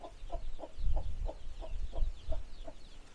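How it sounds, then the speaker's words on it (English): Chickens kept by homeowners cluck in a yard in Nicaragua, a steady run of close, evenly spaced clucks over low rumbling background noise. "The owners have some chicken to grow."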